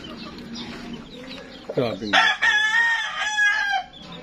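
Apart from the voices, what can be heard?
rooster crowing and chickens clucking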